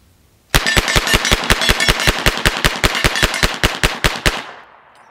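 A Thompson 1927 A1 submachine gun empties a 20-round magazine on full auto, a loud, rapid, evenly spaced string of about twenty sharp close shots that stops abruptly, leaving a short decaying echo.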